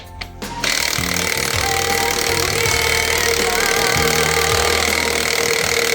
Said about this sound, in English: Friend gave me this botched electric impact. We're gonna see if it gets it done.